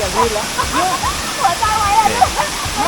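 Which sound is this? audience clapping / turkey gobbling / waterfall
waterfall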